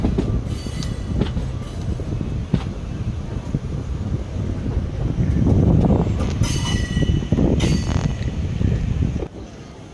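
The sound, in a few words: Sabari Express train running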